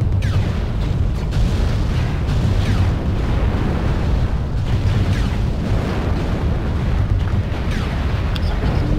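Artillery strike explosions in the video game MechWarrior Online boom and rumble continuously in loud, dense, overlapping blasts with no pause.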